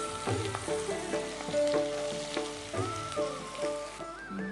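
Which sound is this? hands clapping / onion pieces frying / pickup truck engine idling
onion pieces frying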